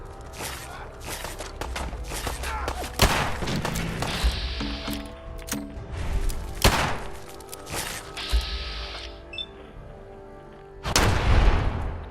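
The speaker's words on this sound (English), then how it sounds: "Opening fire." Gunfire from the video game Fallout 4 rings out in a series of loud, booming shots and heavy thuds, spaced irregularly with a sharp burst near the end and quieter game sounds between.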